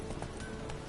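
Hoofbeats of Roach, Geralt's horse in the video game Witcher 3, a steady soft clip-clop under a continuous bed of ambient game sound.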